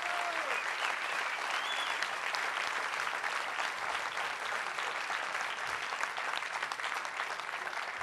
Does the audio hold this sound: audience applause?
yes